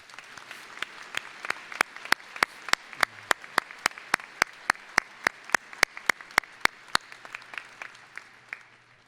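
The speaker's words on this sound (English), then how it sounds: "Could we please give them one more round of applause?" An audience applauds at a university winter commencement ceremony, with one nearby clapper's sharp, evenly spaced claps standing out over softer crowd clapping for several seconds.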